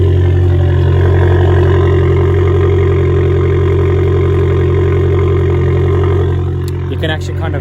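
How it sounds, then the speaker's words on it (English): An Abarth 595 Turismo idles on a very cold day with a steady, loud, close engine drone that holds evenly throughout, with faint metallic tinging from the exhaust and a short clatter just before the end. "You can actually kind of hear that metal tinging."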